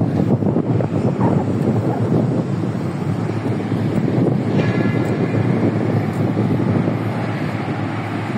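Steady, loud wind buffets the microphone with a constant roar, broad and unbroken throughout, near construction sites in Business Bay, Dubai, with no one speaking.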